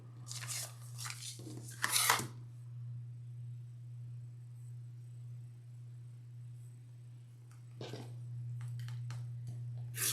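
Fabric being cut on a cutting mat for flying geese quilt blocks: a few quick, crisp slicing strokes near the start and again near the end, separated by a quiet stretch, all over a steady low electrical hum.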